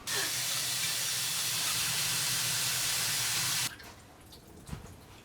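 Tap water runs loud and steady onto greens being rinsed in a kitchen sink while Korean side dishes are prepared, the hissing flow cutting off abruptly after three and a half seconds, leaving a few soft handling sounds.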